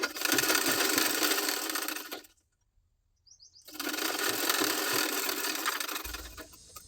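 A sewing machine stitches a hook strip onto a blouse in two loud, continuous runs of rapid mechanical whirring, split by a pause of about a second.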